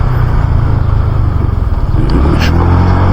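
A motorcycle engine runs close by, a loud, steady low rumble that continues throughout without pause.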